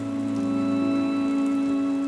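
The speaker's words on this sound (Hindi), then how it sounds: "अरे मीनू चिड़िया, तुम इतनी बारिश में बच्चों के साथ कहाँ निकली फिर रही हो?" Steady rain pours throughout a Hindi animated children's story, a constant patter that carries evenly from start to finish with a soft tonal music bed underneath.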